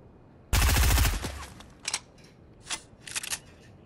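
A machine gun in the video game Fortnite fires one loud rapid burst lasting about half a second, followed by a few quieter scattered shots and clicks.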